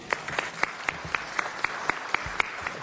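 Evenly spaced claps ring out at a city council meeting, about four per second in a steady rhythm, crisp and fairly close over a quiet room, as the city's Poet Laureate is applauded.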